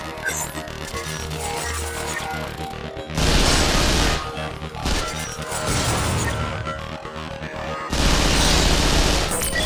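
Weapon systems in the video game Vanquish fire at a virtual target in loud, rapid bursts of crashing gunfire and impacts, separated by brief lulls of quieter mechanical clatter.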